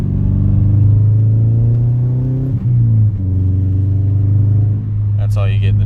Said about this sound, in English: Here, I'll give you a third gear, a little ramp.